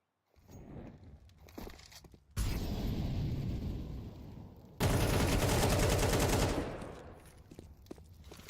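AK rifle gunfire in the Counter-Strike video game, a long, loud rapid-fire burst after some quieter shots and footsteps, alone without talk.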